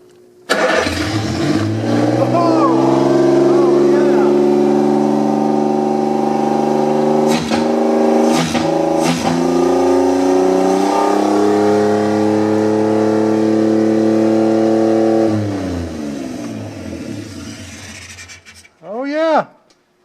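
A 3-cylinder 800cc micro van engine fitted with a Mikuni motorcycle carburetor and running without a muffler starts up, then idles loudly and steadily with a droning, throbbing exhaust note, and shuts off with a final sputtering rev.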